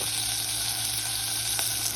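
Spices fry in oil in a pressure cooker for a chicken mirch curry, giving a steady close sizzle with a faint stirring clink, and no voices.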